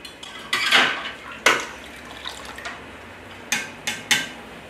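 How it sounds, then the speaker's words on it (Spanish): Glass jam jars clink and knock as they are lifted with tongs from a pot of water during apricot jam making, giving several bright, separated clatters at irregular intervals. "con unas pinzas los sacamos de la olla, los ponemos boca abajo para que se nos sequen"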